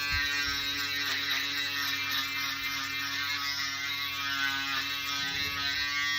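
An electric shaver running steadily against a beard, a constant close buzzing hum with slight changes in tone as it moves across the face.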